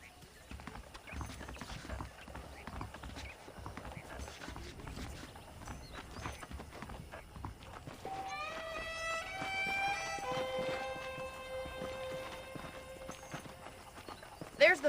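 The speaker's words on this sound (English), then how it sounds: "The horses are saddled up over here." Video game horse hooves clip-clop steadily, with a brief whinny partway through, while people talk over them.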